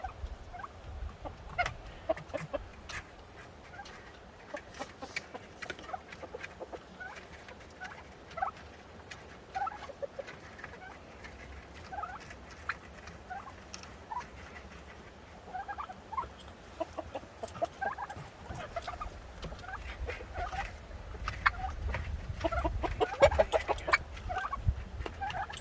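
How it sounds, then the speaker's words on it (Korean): Native Korean chickens on a remote mountain homestead in Taebaek cluck and call throughout, scattered and fairly faint, with no talking. "토종닭 이렇게 키우시면서 진짜 여기 토종닭이네."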